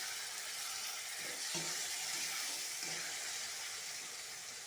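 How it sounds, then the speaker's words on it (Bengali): Water hits a hot pan of bottle gourd for chana dal and sets off a steady, close hissing sizzle that carries on without a break at a moderate level, with faint stirring clinks inside it. "একটু জল দিয়ে দিলাম"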